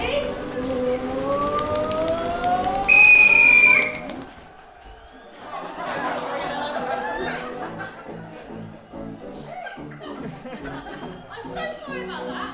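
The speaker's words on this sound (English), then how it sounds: "Listen, wait for the whistle, that's the most important thing" A loud, shrill whistle is blown once in a sharp blast lasting about a second, over people talking and laughing. The chatter and laughter carry on afterward.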